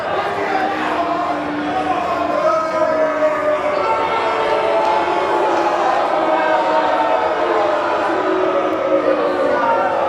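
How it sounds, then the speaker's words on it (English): Wrestling crowd at an indie show jeering wrestler Anthony Catena, a steady loud wash of voices and boos filling the space, with a commentator talking over it. "This crowd is not happy with Anthony Catena."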